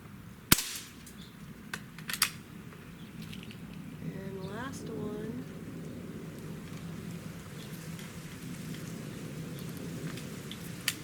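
A Beeman AR2078A CO2 target air rifle fires a single sharp, close crack early on, followed by a few fainter clicks and a soft steady background hiss.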